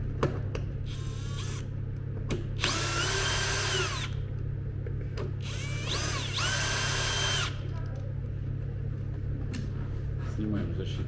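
A power screwdriver whirs in short bursts while unscrewing a screw on a MET Explorer electric scooter, fairly close, over a steady background hum.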